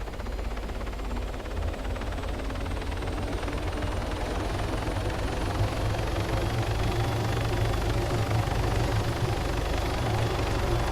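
A steady, heavy rotor drone with a constant low thump runs throughout, loud and unbroken, like a helicopter heard from inside the cabin, in the video game Arma 3.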